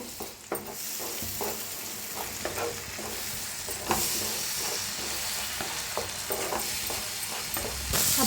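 Tomato paste fries in a pan with onion for a garlic fenugreek dish, giving a continuous close sizzle with a few clinks and scrapes of stirring throughout.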